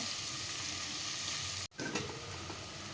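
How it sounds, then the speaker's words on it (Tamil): Onions sauté in a pan for vegetable biryani, giving a steady close sizzle and crackle, briefly broken by a stir before frying resumes. "வெங்காயம் வதங்கிட்டு இருக்கு."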